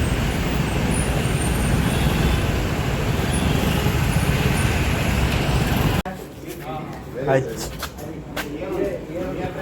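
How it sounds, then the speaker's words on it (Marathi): Night road traffic in Goa, a dense continuous roar of passing cars and buses for several seconds, then a quieter stretch with scattered vehicle sounds and voices. "ट्रॅफिक बघा किती आहे ते."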